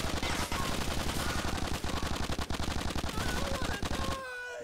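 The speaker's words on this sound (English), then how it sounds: "Oh, Tony's shooting" Rapid automatic gunfire from Grand Theft Auto IV: The Ballad of Gay Tony rattles in a loud, dense burst of evenly spaced shots for about four seconds, then stops abruptly.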